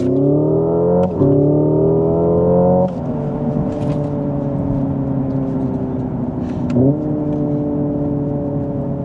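A 2025 Hyundai Ioniq 5 N electric car with 601 horsepower accelerates hard, its loud synthetic engine tone rising steadily, with brief dips that sound like simulated gear shifts.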